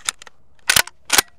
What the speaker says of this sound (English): Moving up to the 12 gauge, shooting a slug.